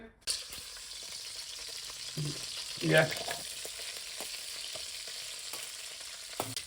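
Cardamom, cloves, cinnamon, chillies and onions fry in a kadai of hot ghee and oil for biryani, a soft, continuous sizzle with a few stirring clatters near the middle.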